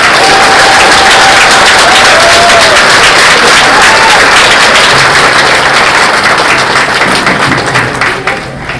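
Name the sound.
applause for graduates at a commencement ceremony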